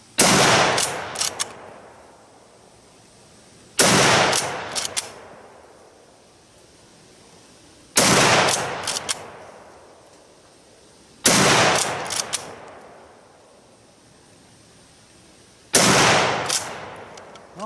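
Five loud single shots from a Savage Model 99 lever-action rifle, each sharp crack followed by a long decaying outdoor echo, spaced several seconds apart.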